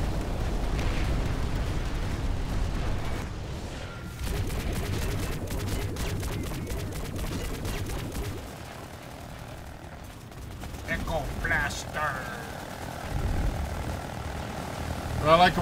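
Mosquito aircraft in PlanetSide 2 making strafing runs, a steady droning engine roar with bursts of rapid gunfire and booming impacts, loud and continuous throughout, with some talk mixed in.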